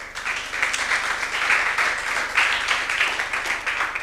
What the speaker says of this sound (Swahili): Pokeeni kwa makofi